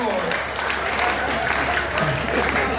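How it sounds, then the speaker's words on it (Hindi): Applause from an audience at a Hindi poetry recital, a dense, steady patter of clapping that fills the clip while faint voices mix in. "तो तालियां थोड़ी सी बजाइएगा"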